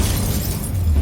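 Incendio fire spell cast in Hogwarts Legacy during a troll fight, a short loud burst of roaring flame with a heavy low rumble, sustained for about a second with no voices.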